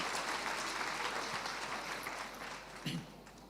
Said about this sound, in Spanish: Aplaudan, así puedo tomar el té